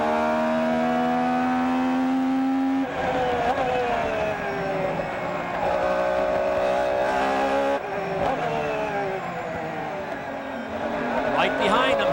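A 1998 Porsche GT1 turbocharged race car at Petit Le Mans brakes and pulls away hard under power, engine tones sweeping up through several gear changes, loud and close, with a commentator talking over it.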